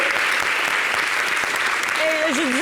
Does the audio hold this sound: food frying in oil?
no